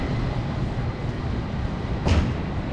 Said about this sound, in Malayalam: ഓരോ പത്ത് മിനിറ്റ് ഇടപെട്ട് ഈ ട്രാമ കൊടുത്ത് പോകുന്നുണ്ട്